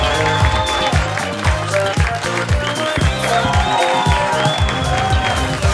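Applause from a concert audience, dense sustained clapping and crowd noise over loud music with a thumping beat, close and continuous.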